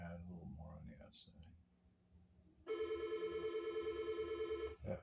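Telephone ringing in a sign-lettering workspace, a single long electronic ring after someone speaks, clear and fairly close.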